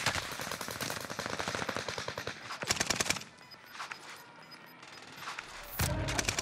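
Automatic weapon fire in the Call of Duty Warzone Pacific video game, loud rapid bursts of machine-gun shots, then a pause and a final burst.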